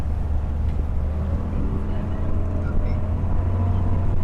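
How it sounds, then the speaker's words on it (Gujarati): A small tourist boat's motor drones steadily and up close on a lake by a Cambodian floating village, with wind buffeting the microphone and no one speaking. "સો અહીંયા આ રીતે આ લોકો બોટમાં બેસાડીને"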